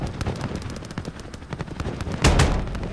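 An aircraft gun run rakes troops on a tarmac in Call of Duty: Modern Warfare, rapid cannon shots cracking in quick succession, loud and close, swelling into a heavier burst of impacts near the end.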